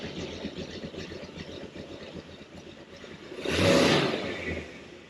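A 1979 Corvette V8 with an aftermarket cam idles with a steady, uneven loping rumble, close and moderately loud, swelling briefly into a louder rush near the end.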